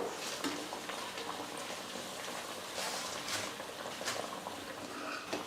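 Vada frying in hot oil, made from raw ingredients, gives a faint, steady bubbling sizzle with scattered soft pops and no voices.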